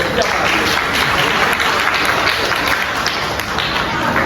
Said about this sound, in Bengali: হাততালি করে।